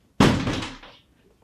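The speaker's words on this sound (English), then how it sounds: "Shut the door after you." A door is pushed shut indoors in a home: a single loud, close thump that rings and fades over about a second, followed by near silence.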